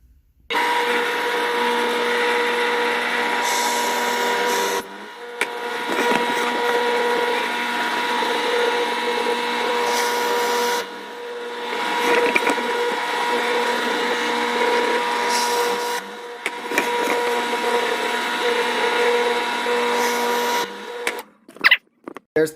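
Drill press boring four screw holes in a wooden stand mount, a steady whining motor hum that runs in long stretches with brief pauses between holes.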